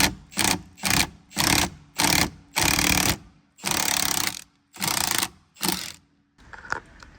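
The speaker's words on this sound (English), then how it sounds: "this little Milwaukee impact comes in handy so much" Milwaukee 16 mm impact wrench taking apart a 2020 Toyota Supra steering wheel: about nine loud, close bursts of rapid hammering, each lasting around half a second with short pauses between them.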